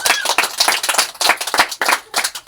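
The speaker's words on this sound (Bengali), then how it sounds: "হাততালি" An audience claps at a kabaddi match prize ceremony, a loud, close burst of many hands clapping continuously and unevenly throughout.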